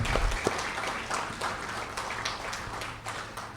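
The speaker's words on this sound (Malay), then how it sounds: "satu tepukan" A crowd applauding steadily at a monthly fire and rescue department assembly, a dense wash of many hands clapping at moderate volume with no voices over it.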